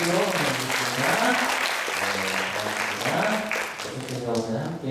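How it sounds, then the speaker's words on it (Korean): Church congregation at a Sunday service applauding to welcome visiting high school students, a dense, sustained clapping that fills the room while voices carry on underneath. "환영한다는 박수로 보내드리겠습니다."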